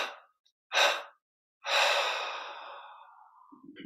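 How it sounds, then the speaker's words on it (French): Slow exhalations through the mouth and nose during a guided meditation, three close breaths: a short puff, a second brief breath, then a long sighing release that fades gradually. "3 expirations par la bouche et le nez de cette manière."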